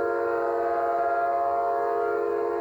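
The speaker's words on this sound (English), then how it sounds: "barreling in from Chicago at more than 70 miles an hour, was the legendary passenger train, the city of New Orleans" Amtrak's City of New Orleans passenger train, running from Chicago at over 70 mph toward a road crossing, sounds a loud sustained horn chord that holds steady and near for the whole moment, with rumbling track noise underneath.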